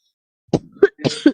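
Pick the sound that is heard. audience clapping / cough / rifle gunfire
cough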